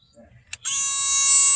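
A multimeter gives a sharp continuity beep: a brief click and blip, then a steady, piercing high tone that holds without a break, close up while testing wiring on a 2000 BMW 528i.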